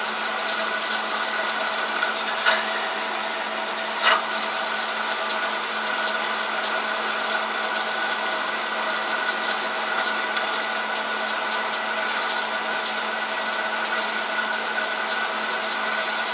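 Power drill boring through a steel bolt with a 10.1 mm bit, a steady continuous whine holding level throughout with a couple of brief clicks near the start.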